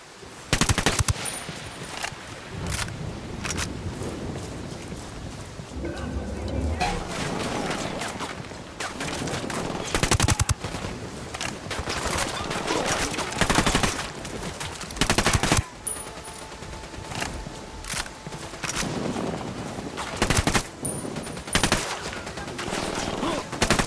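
Sustained heavy gunfire in the open-world shooter Ghost Recon Wildlands, near and loud, rapid automatic bursts and sharp single cracks overlapping almost continuously, with brief lulls and occasional louder close shots.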